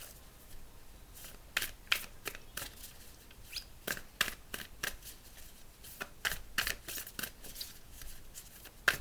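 A tarot card deck being shuffled, with a steady run of crisp riffling bursts and soft card slaps, close and fairly quiet, with no talking.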